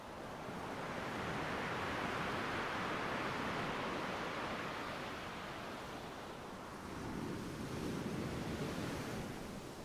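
Ocean waves washing onto the shore make a continuous broad roar of surf, swelling and easing slightly, with a fresh surge near the end and no voices.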